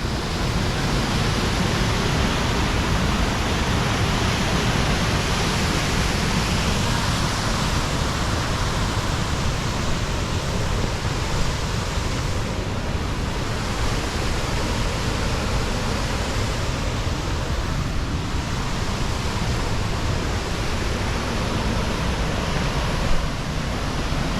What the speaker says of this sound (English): Pretty powerful waterfall.